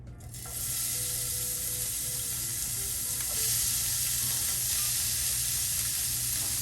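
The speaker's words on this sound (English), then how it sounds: "I cover the frying pan in the olive oil and then I will add the beef." A steady, hissing sizzle of beef frying in olive oil in a frying pan, constant and close, with a few faint clinks of a utensil.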